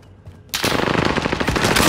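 Rapid automatic gunfire in the video game Call of Duty: Modern Warfare bursts in suddenly after a quiet moment, loud, close and sustained with dense repeated shots.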